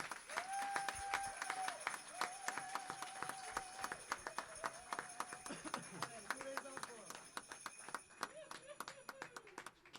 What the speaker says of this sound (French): les adultes, vous avez été timides avec vos applaudissements